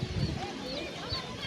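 Chickens clucking at a poultry market in Khazarasp, faint scattered clucks and squawks amid a busy crowd murmur and market noise.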